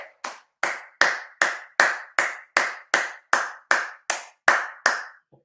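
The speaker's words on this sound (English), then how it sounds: "Clap for both." Supporters at an Inter versus Lecce football match give slow, even claps, about a dozen sharp strikes spaced roughly half a second apart, loud and close with nothing else underneath.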